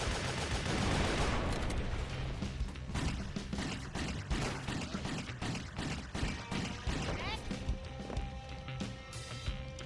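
Submachine guns fire in the video game WET in loud, dense automatic bursts. Sharp rattling reports come close together across the whole stretch, with no talk over them.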